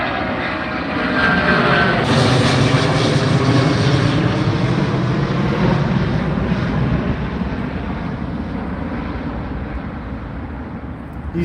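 A large airliner takes off at Heathrow Airport, its loud jet roar rising sharply after a couple of seconds and holding as a powerful, sustained rumble that eases only slightly toward the end, with no voices.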